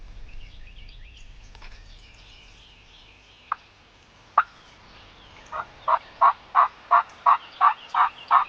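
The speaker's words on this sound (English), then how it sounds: "they heard the gobbler" A wild turkey gobbler gobbles at a distance during a spring turkey hunt, a rapid run of loud rhythmic gobble pulses preceded by a couple of sharp isolated notes and faint earlier calling.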